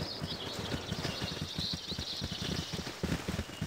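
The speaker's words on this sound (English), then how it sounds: "Horse!" Steady clip-clop of horse hooves in the fantasy role-playing game Baldur's Gate, a quick uneven rhythm of hoofbeats over a constant hiss of rain or ambient noise, with no voices.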